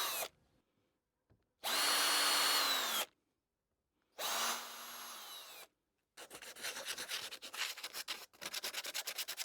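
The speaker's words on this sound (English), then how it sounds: "I pre-drill about halfway into the thickness to reduce the chance of splitting when I nail them" A power drill pre-drilling holes into reclaimed scrap wood, two sustained whining bursts separated by silence, followed by a rougher, stuttering stretch of drilling as the bit chews through the board, close and loud with no talking.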